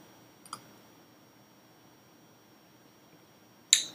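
Two isolated computer mouse clicks, one faint near the start and a sharper one at the end, with quiet room hiss in between.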